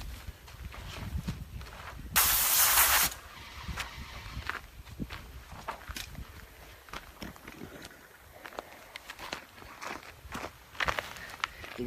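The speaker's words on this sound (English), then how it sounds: "So I'll do this little spray here" A Graco Clean Shot valve sprayer lets off one loud, hissing burst of paint spray lasting about a second. Scattered footsteps and handling noises come before and after it.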